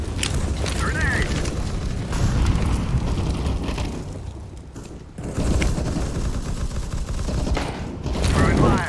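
Dense gunfire and blasts in CS:GO, with loud bursts and booms running nearly throughout and a heavy explosion near the end; a player's voice is heard over the action.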